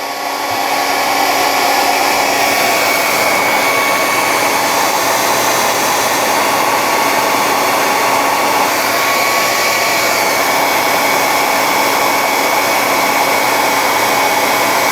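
A hair dryer blows steadily to heat clamped resin model kit parts, a loud, constant broadband whoosh and whine that runs unbroken from start to finish with no other sounds.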